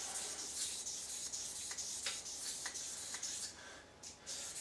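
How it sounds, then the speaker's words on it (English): A butcher steel is rubbed along 1000 grit sandpaper in long, full-length strokes, giving a soft, close, rhythmic scraping hiss, each pass rising and fading in a steady back-and-forth pattern. "Make sure you go full length as you're rubbing it."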